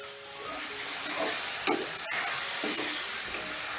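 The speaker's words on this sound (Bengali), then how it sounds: "এই সোয়াবিনগুলো দিয়েও প্রায় দু তিন মিনিটের মতন ভালো করে কষে নেবো" Soybean chunks fry and get stirred in a pan for a masoor dal dish, giving a soft continuous sizzle with occasional scraping stir strokes and one sharp clink, fairly quiet and close.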